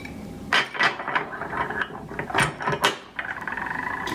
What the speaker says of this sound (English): Now this bolt comes out.